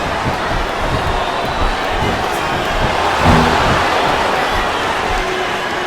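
Arena crowd in the wrestling video game WWE Smackdown vs RAW 2007 on Xbox 360, a continuous dense roar of cheering that swells briefly midway, loud and steady throughout.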